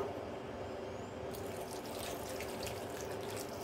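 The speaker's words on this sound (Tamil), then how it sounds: "நல்லா மூழ்கிற அளவுக்கு தண்ணி விட்டுக்கலாம்." Water pours steadily into a pan of potatoes for a potato fry, a continuous splashing rush with a slight shift in brightness partway through.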